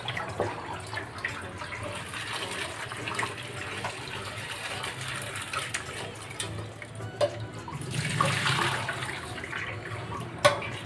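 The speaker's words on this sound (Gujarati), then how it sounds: "આ રીતના આપણે ધોઈ અને એને વધારાનું જે પાણી હોય એને નિતારી દેવાનું છે" Cluster beans being rinsed in water and drained in a home kitchen, with soft continuous splashing and trickling, a louder pour of water near the end and a brief clatter.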